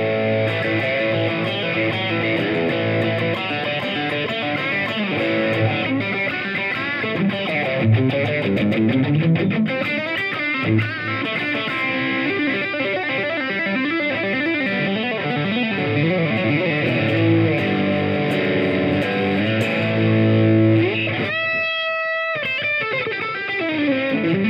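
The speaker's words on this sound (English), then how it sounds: "I'll go through that again, but with a bit more of a filthy, dirty sound" Fender American Deluxe Telecaster with noiseless pickups, played through a heavily distorted, dirty tone: sustained chords and riffs ring continuously at a steady, loud level with no talking, briefly cutting out near the end.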